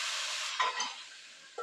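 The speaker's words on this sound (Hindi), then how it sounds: "तड़का लगा रहे।" Loud, steady sizzling hiss of spices tempering in hot oil for kadhi, with a few brief pops and stirring scrapes, no voices.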